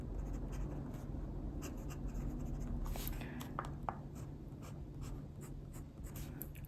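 Steel nib of an Esterbrook Estie fountain pen scratching softly across paper in short strokes, quiet and close with a faint background hum.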